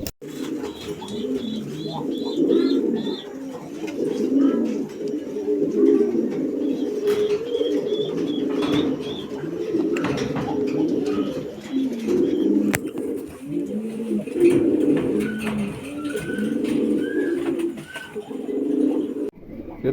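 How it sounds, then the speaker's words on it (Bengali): A pair of show-quality Pomeranian pouter pigeons coo close by in low, repeated throaty phrases, with occasional higher chirps from other birds in the background. "খুবই চমৎকার এক জোড়া কবুতর"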